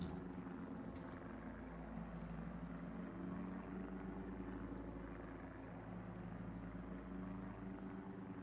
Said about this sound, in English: I just realised I can hear the plane.